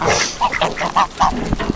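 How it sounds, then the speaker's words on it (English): Several ducks quack close by in a quick series of nasal calls, overlapping and loud, with a few softer honks mixed in. "The ducks gotta eat."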